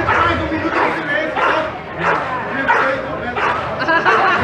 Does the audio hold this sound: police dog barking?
yes